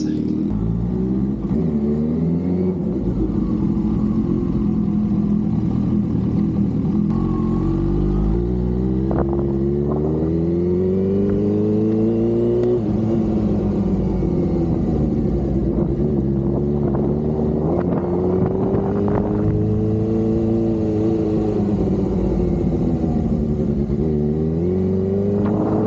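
Kawasaki Ninja H2 motorcycle ridden near Melbourne's inner city, its engine droning continuously close to the microphone with repeated rising and falling pitch as it accelerates and eases off, no talk.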